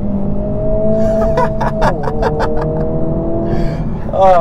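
A Honda Civic engine revs in sport mode inside the car, a steady drone with rising tones building over a few seconds, while quiet reactions are heard in the cabin.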